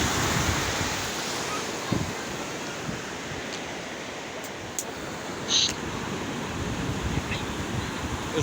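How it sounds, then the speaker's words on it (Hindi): Sea waves wash onto a seashore under steady wind, a broad, loud rushing surf with gusty wind noise buffeting the microphone and a few brief thumps, with no talking. "समंदर गाइस, समंदर, आज हम समंदर पे आ गए हैं"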